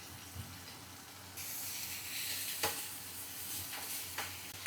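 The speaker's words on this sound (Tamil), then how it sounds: "நல்லா வதக்குங்க. லைட்டாக மஞ்சள்தூள் அதே போட்டு நல்லா பரட்டுங்க." Vegetables seasoned with turmeric and salt sizzle and hiss in a pan over high flame, a steady loud frying noise broken by a few sharp scrapes and clinks of stirring.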